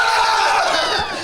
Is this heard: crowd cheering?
yes